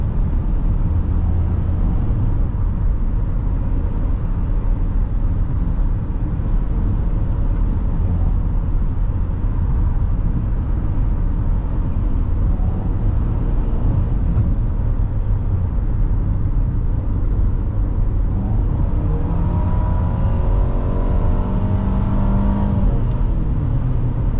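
A 2017 Nissan Rogue SV accelerating to pass on the road, a steady loud low engine drone with road and tire noise that holds throughout, rising slightly in pitch toward the end.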